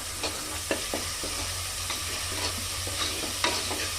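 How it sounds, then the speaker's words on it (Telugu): Ginger garlic paste and turmeric frying in a pan with a soft continuous sizzle, broken by several sharp spoon taps and scrapes against the metal as it is stirred, close up with no voices. "ఈ అల్లం ఎల్లిగడ్డ పచ్చివాసన పోయేదాకా వేయించుకోవాలి"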